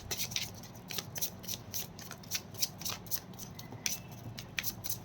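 Tarot cards being shuffled by hand, a quiet run of crisp riffling flicks and soft slides in an irregular rhythm, close and alone without talk.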